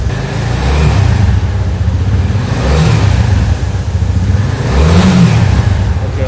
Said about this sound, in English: the exhaust note of the bike